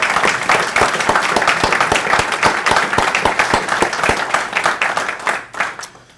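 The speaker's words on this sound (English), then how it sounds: "So give a round of applause to Tom Donahue right here." Applause for Tom Donahue at a local public-access TV annual meeting: many hands clapping in a steady dense patter that stays loud throughout, then thins out and fades near the end.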